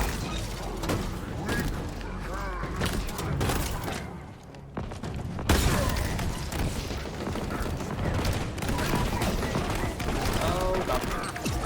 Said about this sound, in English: And they're shooting my corpse.